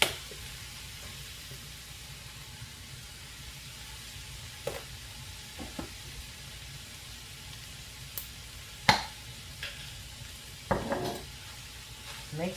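Ground meat seasoned with garlic powder and onion powder sizzles steadily in a frying pan while a utensil stirs it, with occasional sharp scrapes and clinks against the pan.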